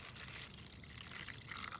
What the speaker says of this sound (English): So we're going to pour our 1 cup in there.